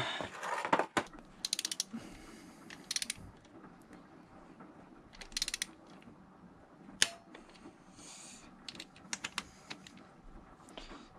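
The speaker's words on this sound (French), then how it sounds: "maintenant on peut faire la première passe de serrage à 20." A torque wrench tightens the cylinder head bolts on a BMW K100 motorcycle engine, giving several bursts of quick ratcheting clicks with quieter handling noises in between, close and faint.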